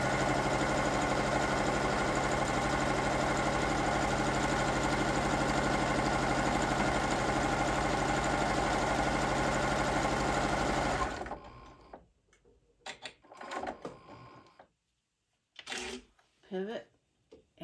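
Sewing machine stitches a set of fabric placemats backed with stabilizer, running loud and steady for about eleven seconds, then stopping; short bursts of quiet speech and small handling sounds follow.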